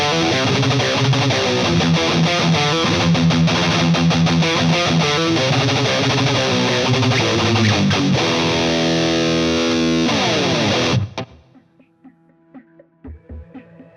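Electric guitar played through a HeadRush pedalboard with reverb, its decay time shortened: a dense distorted, sustained guitar passage that cuts off cleanly, leaving a short reverb tail and a few faint knocks.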